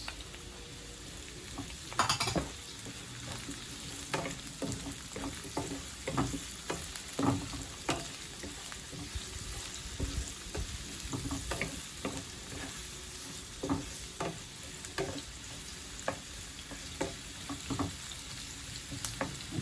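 Sliced onions fry and get stirred in a pan for sweet and sour fish, an ongoing close sizzle broken by irregular scrapes and clinks of a utensil against the pan, with no talking.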